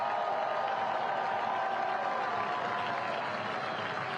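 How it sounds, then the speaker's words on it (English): A stadium crowd at a 2023 U.S. Open Cup soccer match between Nashville SC and FC Dallas applauds steadily as a substituted player leaves the pitch, a dense, continuous wash of clapping and cheering that holds for the whole stretch. "He receives a hero's applause off the pitch."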